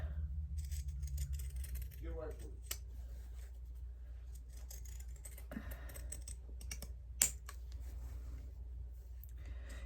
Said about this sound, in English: So now we can trim all that.